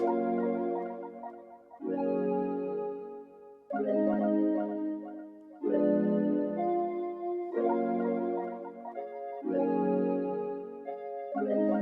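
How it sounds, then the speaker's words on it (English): A chopped vocal-style accent sample drenched in delay for a smooth R&B loop, repeating in regular phrases roughly every two seconds with tonal, harmonic bursts and trailing echoes, no voices. "I've just chopped it and I've added lots of delay to it so I can fit it in this loop"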